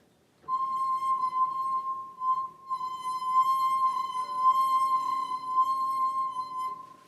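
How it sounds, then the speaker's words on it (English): A singing wine glass rings with a steady, pure sustained tone, loud and close, holding for several seconds with slight wavering and faint overtones. "so we can hear just the glass"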